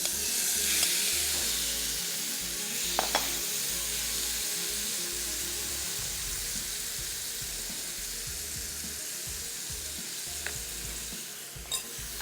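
Chicken pieces fry in a hot pan with cream, a loud, steady close-up sizzle and hiss, broken by a few brief clicks of a utensil stirring.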